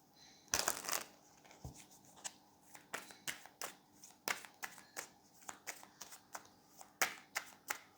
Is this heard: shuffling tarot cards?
yes